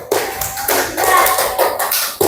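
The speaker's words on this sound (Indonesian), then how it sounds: "aplaus dulu untuk kelompok" A small group claps in applause for a presenting student group in a classroom, a short, close burst of brisk hand claps lasting a couple of seconds.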